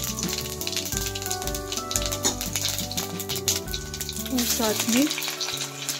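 Cumin seeds sizzle in hot oil with a steady crackle under background music; a voice briefly speaks.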